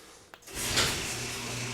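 A click, then a warehouse garage door starts up with a rising mechanical rumble and hum that continues steadily, close by.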